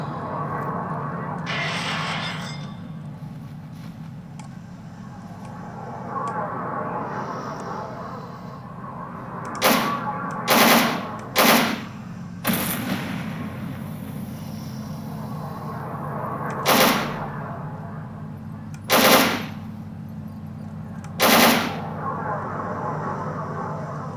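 Gunfire in the video game S.T.A.L.K.E.R. Anomaly: about seven sharp single shots in irregular clusters stand out over a steady low ambient drone.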